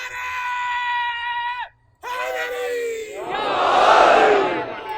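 A large crowd at a religious majlis gathering in a park bellows a drawn-out slogan in unison, breaks off briefly, then answers again in a loud, ragged roar of many voices.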